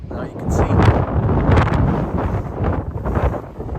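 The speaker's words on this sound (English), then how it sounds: "It's windy." Gusty wind on the west coast of Ireland roars and buffets the microphone at a pier in a continuous, rumbling rush, rising and falling without a break.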